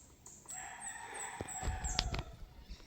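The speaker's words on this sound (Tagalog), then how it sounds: "Marami ditong labuyo." A wild junglefowl rooster crows once outdoors in a natural setting, a faint, somewhat distant drawn-out call with a few soft rustles and knocks nearby.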